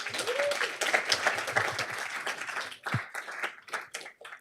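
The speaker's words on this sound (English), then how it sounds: "A big round of applause for Viroshan and Sunereum Labs." Audience applause at a startup demo day pitch event, a dense burst of many hands clapping that thins out into scattered individual claps toward the end.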